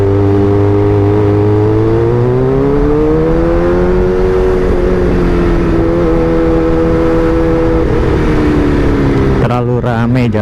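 Motorcycle fitted with a Pro Speed Black Shark silencer rides along a busy road, its steady exhaust drone rising and falling gently in pitch under continuous riding noise, with a brief rough burst near the end.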